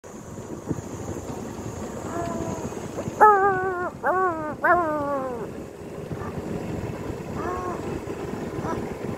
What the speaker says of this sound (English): Noisy dogs over there.